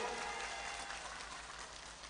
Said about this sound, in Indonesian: tepuk tangan untuk PKB NU